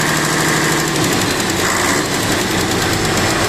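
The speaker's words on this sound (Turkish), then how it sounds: "Bunu çektiğimizde jeneratör stop edecek arkadaşlar." A ship's generator engine runs loud and close, a dense, steady mechanical clatter and rumble throughout while it is being shut down with its stop lever.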